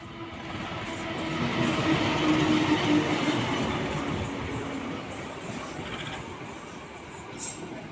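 A Penataran commuter train heard from inside a carriage, a continuous rolling rumble and rattle on the rails that swells and then eases, with faint squeals.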